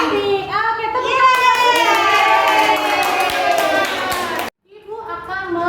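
Children in a sixth-grade classroom clap their hands in a rhythmic pattern while chanting along, then the clapping breaks off and resumes briefly with voices.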